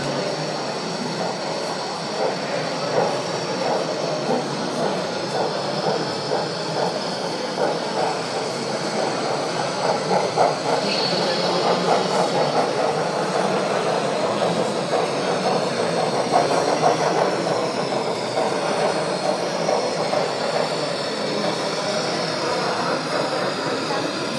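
A model train locomotive shuttles back and forth along a short stretch of platform track at a model railway meet, giving a steady, continuous rolling clatter at moderate level with no talk.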